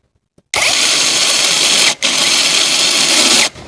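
A KAMOLEE cordless drill-driver set up as an ice auger runs at its second speed, a loud steady whine that cuts out briefly near the middle and again at the end, with no talk over it.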